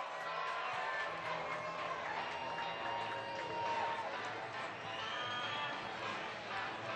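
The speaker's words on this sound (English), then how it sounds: "now they come out to a rousing applause" A large stadium crowd at a soccer match applauds and cheers steadily as players come out, a broad continuous roar with some voices rising above it.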